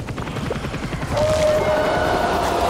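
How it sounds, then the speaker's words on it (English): A helicopter's rotor thumps steadily in Back 4 Blood, loud and close, its pulsing chop mixed with game noise and a rising whine. "Oh, go to the helicopter."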